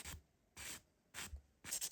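A hand nail file rasps along the free edge and side walls of a nail in four short, close strokes with brief pauses between them, the last stroke slightly broken.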